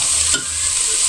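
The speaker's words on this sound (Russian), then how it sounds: "Сейчас ее поджарю на сильном огне, она у меня сейчас будет жариться до золотистого цвета." Shredded cabbage fries in oil over high heat, giving a close, steady sizzle with a brief stirring scrape partway through, no voices.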